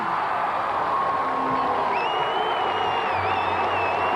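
Fans in the stands at the 2001 NCAA women's gymnastics championships applaud and cheer after a Georgia routine, a steady, dense wash of clapping and crowd noise with a faint whistle-like tone rising partway through.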